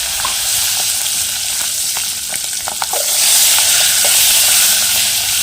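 Green chillies with asafoetida sizzle and crackle in hot oil, with light scraping and clinking from stirring, the hiss growing louder and steadier toward the end.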